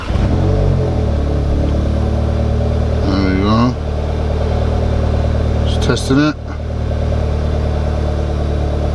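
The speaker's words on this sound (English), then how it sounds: "so it says we'll start engine" A car engine runs steadily at idle throughout, a low constant rumble, while a person speaks briefly over it.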